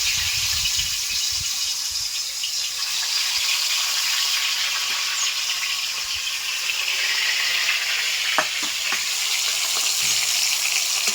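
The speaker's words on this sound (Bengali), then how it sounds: "তেলটাও গরম হয়ে গেছে এবার মাছগুলো আমি ভেজে নেবো" Pieces of shol (snakehead) fish fry in hot oil, a loud, continuous close sizzle with a few faint clinks of a utensil near the end.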